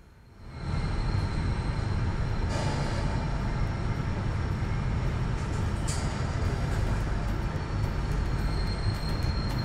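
A passenger train arriving into Roma Termini station rumbles loudly and steadily from inside the carriage, a dense low roar that swells up within the first second and holds, with a couple of brief clanks.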